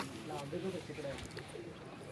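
Red pigeons coo softly nearby in a short, low warbling phrase, faint and brief, with a voice talking over it.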